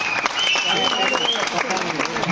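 Festive crowd at a Ganesh Chaturthi celebration at NIT Goa applauds and cheers for volunteers, with dense, steady clapping and whoops filling the whole stretch at close range.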